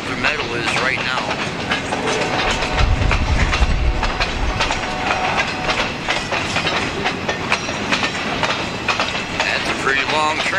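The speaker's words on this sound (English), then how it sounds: "That's a pretty long train." A long freight train rumbles past close by in the rain with rhythmic clickety-clack of wheels on rails, steady and loud, with a voice briefly audible.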